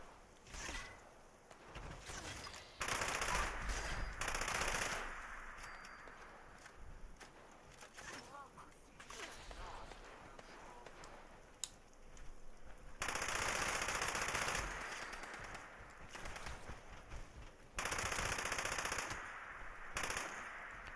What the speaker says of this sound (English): I love how this LMG shoots